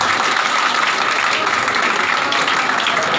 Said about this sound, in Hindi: उसको जोरदार तालियों से स्वागत करें.